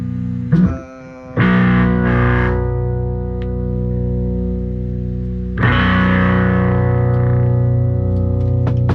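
A distorted electric guitar riff rings out loud and sustained, with a short fumbling cable noise and a brief pause before the chords resume.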